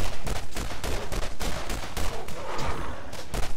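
Rapid bursts of pistol gunfire in the Borderlands shooter game, dense sharp cracks repeating close and loud across the whole stretch.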